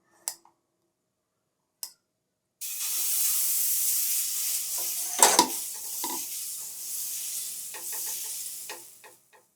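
Millet pancake batter is poured onto a hot dosa pan and bursts into a steady, close hissing sizzle, preceded by a couple of soft clicks and a clatter of utensils partway through, with no talk.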